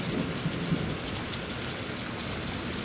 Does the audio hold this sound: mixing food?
no